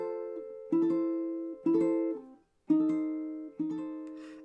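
Ukulele plays a melody, moving notes set against a steady unchanging accompaniment, in about four separate plucked phrases that ring and fade, close and clear with no voices.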